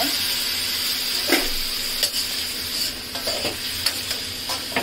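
Finely chopped potatoes fry in a pan for bread poha, giving a steady close sizzling hiss with occasional scraping stirs and soft clatters. No voices.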